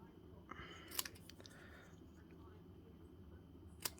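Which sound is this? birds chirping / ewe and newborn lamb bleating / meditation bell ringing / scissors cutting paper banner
scissors cutting paper banner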